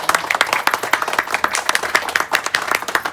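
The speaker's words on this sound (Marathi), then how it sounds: "सर्वांनी टाळ्या वाजवा जरा." Audience applause at a night box cricket match, a dense run of many hands clapping steadily and fairly close for the whole stretch, with a few faint voices mixed in.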